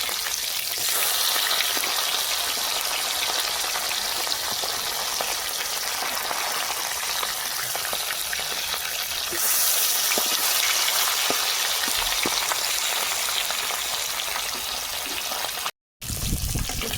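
Pomfret fish, turned over to its other side, frying in hot oil in a pan, giving a steady, loud, dense sizzle for about fifteen seconds, broken by a brief silent gap near the end before resuming.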